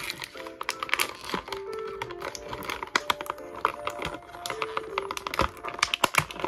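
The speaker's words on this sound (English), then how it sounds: "Those little plastic bands that I'm going to try not to break." Small plastic bands are pulled and snapped loose from Masters of the Universe toy packaging, a close run of crinkles, clicks and sharp cracks with irregular rhythm.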